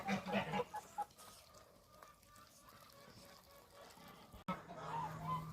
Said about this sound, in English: So these are Muscovy ducks.